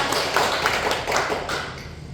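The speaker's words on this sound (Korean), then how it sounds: "선배님들께 큰 감사의 박수를 보내주시면 감사하겠습니다" Church congregation applauding senior members during a worship service, a steady wash of many hands clapping at moderate distance, fairly soft.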